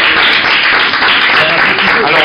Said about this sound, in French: Là, vous pouvez applaudir.